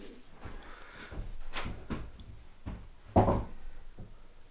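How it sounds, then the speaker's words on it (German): Wooden door handled and fitted onto its hinges: a run of knocks, wooden bumps and a sharp clunk near the end, close by with faint talk in the background. "So, Anne hängt jetzt mal die Tür ein."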